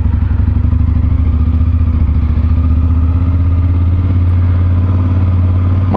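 BMW F850GS motorcycle on a test ride: a loud, steady, rapidly pulsing engine drone heard close up from the rider's position, continuous throughout with no talk.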